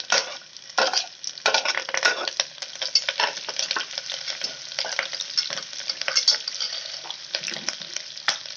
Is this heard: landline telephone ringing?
no